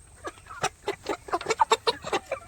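A jet-black hen around 45 days old, already calling, gives a run of repeated clucking calls, close and fairly loud, pulsing steadily over a couple of seconds.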